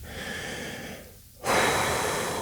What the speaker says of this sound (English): Let's take a pause. Let's breathe.